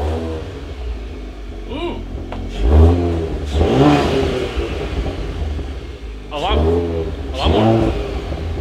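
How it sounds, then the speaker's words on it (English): An Audi B9 S4 with an ECS X-pipe exhaust, engine cold, revs up in several loud bursts that rise and fall over a deep idle rumble, while people talk nearby. "You gonna give it a little rev ski?"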